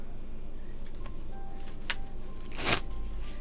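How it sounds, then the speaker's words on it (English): A deck of playing cards, still holding the cut card, is shuffled at a poker table. Soft riffling and tapping come in short bursts and finish with a louder riffle, heard close with no talk. "Even with the cut card still in it, I'll shuffle it."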